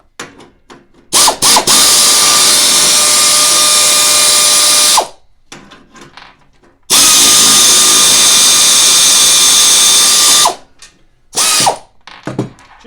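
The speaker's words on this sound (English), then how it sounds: "I'm going to use an impact. Well, it's not really an impact, it's just a air ratchet" An air ratchet spins off mower deck bolts in two long, loud whirring bursts of about four seconds each, separated by brief pauses and short clicks of the tool.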